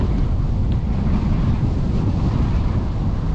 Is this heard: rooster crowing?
no